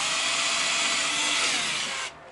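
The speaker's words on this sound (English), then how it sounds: "so I drill the first hole first" A battery power drill boring a hole in a shed, a steady loud whirring for about two seconds that stops abruptly, with no talk.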